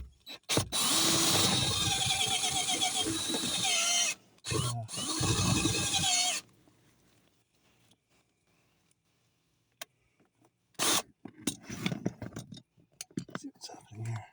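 A battery drill bores through a cramped spot near floor molding and brake lines, running loud in bursts for about six seconds with a brief pause, then falls quiet before scattered knocks and handling noises.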